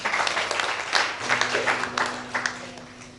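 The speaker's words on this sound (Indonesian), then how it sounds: "Tepuk tangan." A crowd claps in applause at a graduation ceremony, a dense scatter of hand claps with a faint sustained hum underneath.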